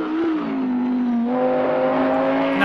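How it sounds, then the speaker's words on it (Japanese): An Audi V10 race car in the Project CARS racing game, heard as the driver lifts off the throttle: a smooth, steady engine drone whose pitch dips and then holds, close and continuous. "このアクセルオフの音とかたまんないですね"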